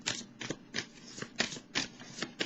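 Tarot cards are shuffled and handled up close in a steady rhythm of about six quick riffling bursts, with no voices.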